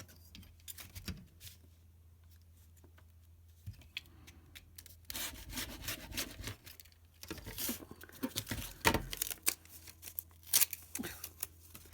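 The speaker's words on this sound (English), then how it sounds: "If you get a rotary blade, and decide how deep you want to cut it, and you keep doing that." A rotary blade slices through fabric into bias binding strips along a ruler, giving a series of scraping, rubbing strokes that come in bursts, close and moderately loud, separated by quieter handling pauses.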